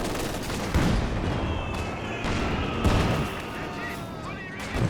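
Mortar fire and other weapon fire in the World War II strategy game Company of Heroes 2 during a 3v3 battle: repeated heavy thumps and impacts over a continuous bed of distant gunfire, with someone commentating over it.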